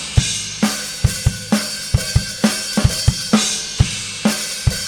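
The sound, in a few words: drum recording with disappearing second cymbal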